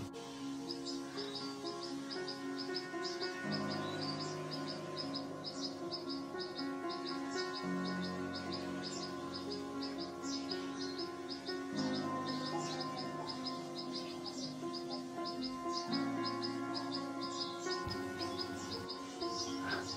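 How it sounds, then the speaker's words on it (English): Birds in a forest chirp in quick, repeated high calls throughout. They are moderately faint and run over a steady bed of sustained musical tones that shift in chords. "The beautiful birds whose songs weave the fabric of the forest."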